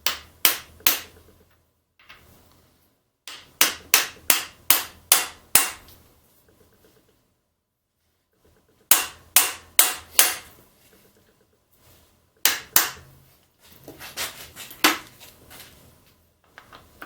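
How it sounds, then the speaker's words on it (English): A hammer strikes a blown LS engine in a Miata in sharp metallic bangs, grouped in quick runs of four to six hits separated by pauses, loud and close. "it'd be easier to hammer on this if that rod was still connected."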